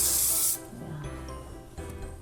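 A can of hairspray hisses in one loud, close half-second burst onto freshly curled hair, followed by soft rubbing and scrunching sounds.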